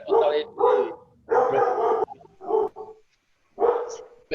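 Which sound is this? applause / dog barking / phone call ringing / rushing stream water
dog barking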